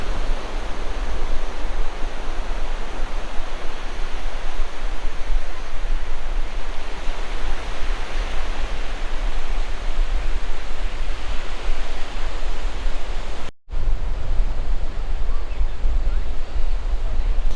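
Sea waves rolling onto Mach beach at Gadani, a steady loud roar of surf with wind across the microphone, continuous throughout with a brief dropout near the end.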